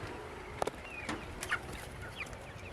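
Tiger chickens on a hot poultry farm give a few faint, scattered clucks and short calls over a steady background hum.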